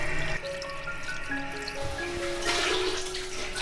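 Tap water runs steadily into a sink while raw chicken is rinsed clean for a Chaoshan-style dish, a continuous trickle with splashes that swell louder near the end, no talking.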